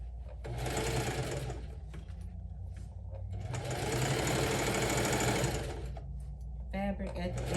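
A sewing machine stitches fabric for a quilted crossbody handbag made from a scarf bandanna in two long, loud, close runs with a brief slowdown between, while a person talks over it.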